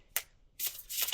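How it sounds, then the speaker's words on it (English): Tarot cards being shuffled by hand, close and crisp, with a brief riffle followed by a longer burst of shuffling. "I'll shuffle just a couple of times"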